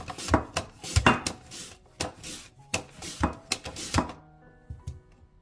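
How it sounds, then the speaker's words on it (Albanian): Potatoes pass over a hand slicer in quick, close, rhythmic rasping strokes, about a dozen in a row, with a few lighter clicks as the strokes trail off. "Për t'i prerë patatet më hollë dhe më mirë, unë po përdor një prerëse të tillë."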